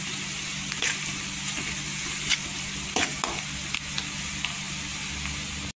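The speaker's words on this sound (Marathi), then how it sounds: "इथे कांद्याचा गोल्डन कलर करून घ्यायचा, छान असा तेलावर परतून घ्यायचा।" Onions sautéing in oil in a pan, a continuous close sizzle with occasional stirring clicks and scrapes, heard alone without talk.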